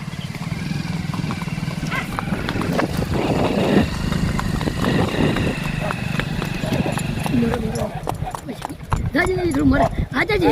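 Two mares trot outdoors, their hooves clip-clopping in a quick, uneven rhythm while people talk and call out loudly over them.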